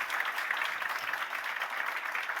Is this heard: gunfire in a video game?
no